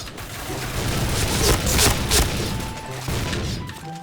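Heavy, booming gunshots fired with hollow point rounds in the shooter Point Blank, a dense run of loud blasts and thuds that swells and fades over a few seconds.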